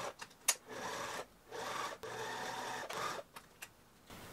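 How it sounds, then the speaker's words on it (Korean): Sewing machine stitching straps onto the bodice of a reversible bustier dress, faint and close, in short raspy runs broken by brief pauses and small clicks. "이제 몸판에 들어오면 몸판하고 끈하고 같이 박아줍니다."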